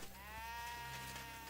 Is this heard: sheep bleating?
yes